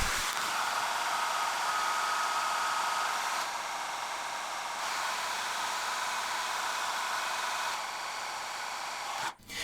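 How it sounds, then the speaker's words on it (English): A handheld hair dryer blows steadily and loudly up close while a round brush styles a handlebar mustache, a continuous broadband rush filling nearly the whole stretch before cutting off abruptly at the end. "using the hair dryer and the round brush, I'm going to just dry it"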